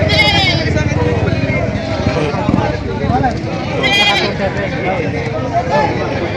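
Goats bleat loudly and repeatedly at a busy livestock market in Padre Garcia, their calls overlapping with constant crowd chatter and nearby talking.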